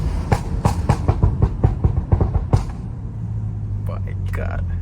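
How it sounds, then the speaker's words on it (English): Rapid crackling pops from the exhaust of a Stage 2+ BMW 335i during a drive, about a dozen loud snaps in quick succession over engine rumble, then the engine settles to a steady drone. "that's always my reaction when this car pops"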